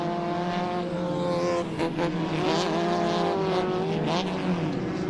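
Off-road short course race trucks roar through the infield toward the final corner at a Great American Short Course round, engines loud and continuous with rising and falling revs and a slight whine throughout.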